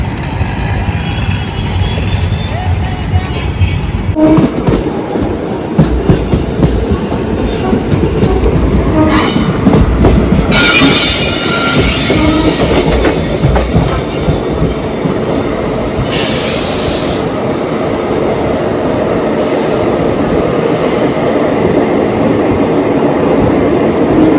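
Heard from inside a passenger train, the train rolls loudly on the rails, a continuous rumble with rhythmic clatter and occasional high wheel squeals.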